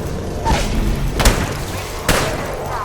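Explosive thuds from a frag grenade in the video game Apex Legends, three loud booming hits spaced about a second apart with a rumbling tail, no talk over them.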